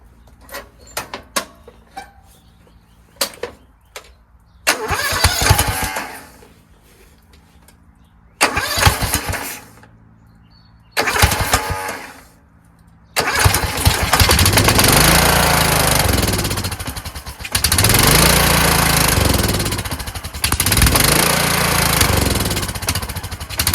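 A Kohler Courage small engine on choke is cranked several times in sputtering bursts with clicks between, then catches and runs loudly and steadily with a rough, rising and falling drone.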